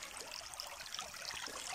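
River water in the western Erzgebirge runs over a granite stream bed, making a steady, close, bright trickling and babbling with no pause, and no voices.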